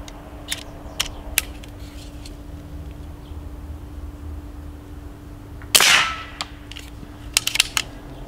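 Stoeger XM1 PCP air rifle firing pellets, a few sharp isolated cracks spaced apart against a quiet outdoor background, with one louder, longer shot near the end.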